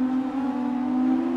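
An F1 2019 race car in an F2 race at the Monaco Grand Prix, its engine holding a steady, loud droning whine that builds slightly as it accelerates again, alone with no talk.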